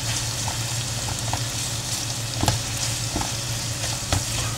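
Beef and chicken pieces frying in oil for sisig, a steady loud sizzle with occasional sharp pops and crackles from stirring, no voices.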